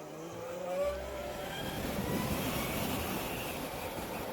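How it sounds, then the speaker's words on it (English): A Zero SRS electric motorcycle accelerating on a group ride, a rising motor whine mixed with wind and road rush that builds and stays steady. "God, that acceleration is so fun."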